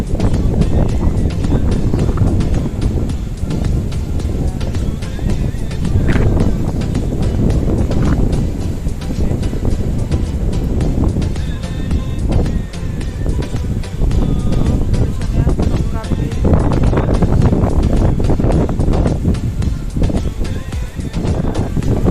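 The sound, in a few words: strong wind at Hagia Sophia, Istanbul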